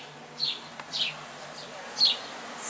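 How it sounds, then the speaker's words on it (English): Wild birds in a garden in rainy Wales chirp in short, bright bursts, three or four clear calls spread out over a quiet background, fairly close and with no talking. "as you can hear, the birds are now very keen on our garden"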